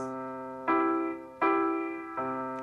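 Three piano chords in 3/4 time, left hand then right hand twice, each ringing and slowly decaying before the next, clear and close with no talking.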